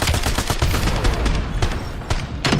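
Rapid bursts of pistol and sniper rifle gunfire ring out in a video game match, loud and close, with sharp cracks repeating in clusters over a constant dense background of in-game shooting.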